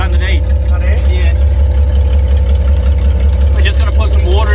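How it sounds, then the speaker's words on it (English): A 1974 Nissan Caball shop truck idles with a loud, steady low engine rumble that runs unbroken, while people talk nearby over it. "We're just going to put some water in it while it's idling now."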